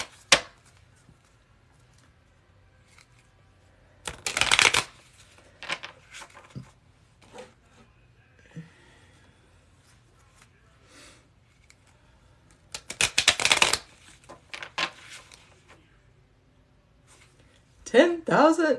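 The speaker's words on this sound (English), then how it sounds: "these cards are well shuffled" Playing cards shuffled for a casino-style card game, heard as two short bursts of crisp riffling a few seconds apart, with a closing flurry near the end, amid quiet room noise.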